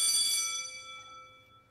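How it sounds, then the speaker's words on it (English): A class bell in a video game rings once with a bright metallic strike, its clear ringing tone slowly fading away with no voices over it. "As the class bell rings, disturbing the moment"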